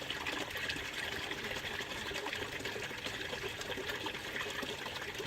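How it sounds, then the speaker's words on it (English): Water drains out of a backyard aquaponics grow bed in a continuous, even rush with a gurgling hiss, close and moderately loud throughout. "That's how fast it drains out."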